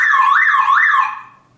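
A car alarm wails with a loud, close, rising-and-falling siren tone in a few smooth sweeps, then cuts off and fades out.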